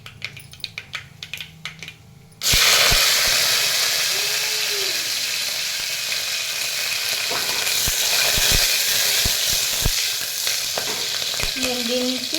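Green chillies and whole spices hit hot ghee for khichdi, bursting into a loud, steady sizzle after a quieter start, with occasional stirring clinks and scrapes throughout.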